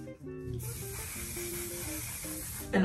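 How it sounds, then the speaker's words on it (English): One Size setting spray hisses in a steady continuous burst close to the face for a couple of seconds, with a faint tonal hum underneath and a brief louder rustle at the end. "I use a lot of setting spray and I go in with the one size."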